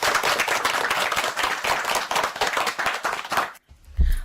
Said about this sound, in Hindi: तो बच्चों बजाते हैं प्रतिभा के लिए तालियां।